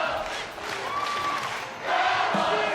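Wrestling event crowd roaring and cheering at a UCW-Zero anniversary show, a dense wash of voices that swells louder toward the end with whistles and shouts rising above it.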